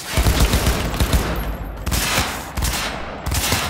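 AK rifle fire in Cyberpunk 2077, loud bursts of automatic gunshots in rapid succession, dense and sustained across the clip with short gaps, no talk.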